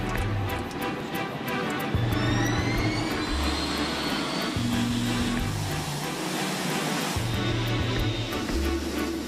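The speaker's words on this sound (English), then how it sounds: "The 747-8 Intercontinental, the newest and largest version of the company's iconic jumbo jet, is taking off for the first time." A Boeing 747-8 Intercontinental jumbo jet roars steadily on its first takeoff, a loud sustained engine rush heard from some distance, with music playing over it.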